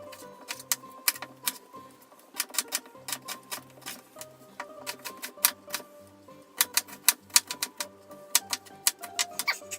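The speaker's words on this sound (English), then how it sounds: "take your knife and give those things a good chopping." A knife chops onions rapidly on a cutting board in uneven bursts of sharp taps, close and distinct, with brief pauses between runs.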